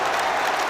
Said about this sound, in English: The biggest cheer that you will hear on Wearside all season